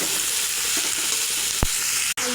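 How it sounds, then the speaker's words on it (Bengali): Chopped onion and potato with a bay leaf fry in hot oil, a steady close sizzle with one brief clatter of stirring near the end. "পেঁয়াজের সঙ্গে আলু কুচি দিয়ে দেব। ভালো করে এবার ভেজে নেব একসাথে।"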